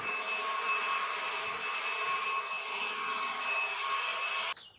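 A cordless leaf blower runs at a steady, loud whooshing drone with a faint high whine, holding constant before cutting off abruptly near the end.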